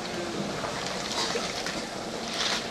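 Thattai, crisp rice-flour crackers, frying in hot oil give off a steady, dense bubbling sizzle that holds at an even level throughout, close up and without talk.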